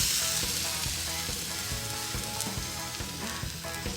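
Yogurt-marinated chicken skewers sizzling on a hot grill, a loud, continuous hiss and crackle with small irregular pops, close up and steady, with no voices.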